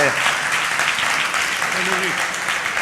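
Audience applause at a textile industry panel discussion, a dense continuous wash of clapping with voices audible underneath.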